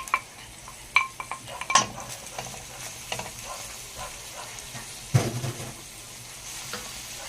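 Grated onions fry in a pan with a steady low sizzle, broken by scraping stirs and clinks of a utensil against the metal, some sharp knocks standing out above the frying.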